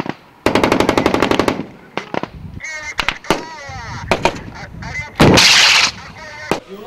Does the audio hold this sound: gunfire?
yes